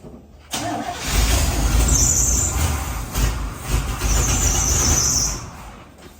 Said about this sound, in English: Go ahead and pump it and crank it.